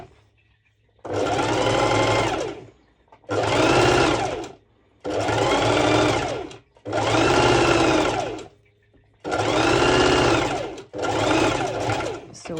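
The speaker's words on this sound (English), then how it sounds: "I'm going to do another bust stitching. So I'm securing the 2 layers of fabric of my lining" A sewing machine stitches through two layers of lining and lycra fabric, running in five or six steady bursts of about two seconds each, separated by short pauses, close and loud.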